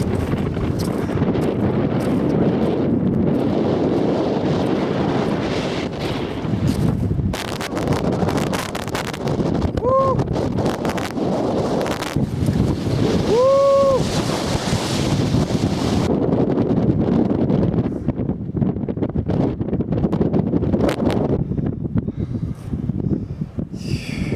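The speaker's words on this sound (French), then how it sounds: "J'aimerais bien filmer de l'autre côté là, mais il y a beaucoup trop de vent." Strong wind sweeps across a high mountain ridge, roaring steadily and loudly into the microphone for the whole stretch with gusty buffeting and no one speaking.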